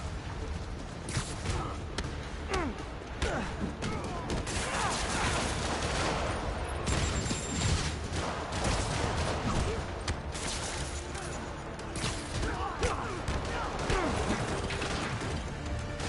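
Dense, continuous barrage of rocket fire and mechanical clatter from Marvel's Spider-Man video game, loud and unbroken throughout with rapid crackling bursts layered over a heavy rumble.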